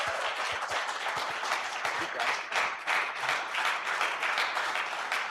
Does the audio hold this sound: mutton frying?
no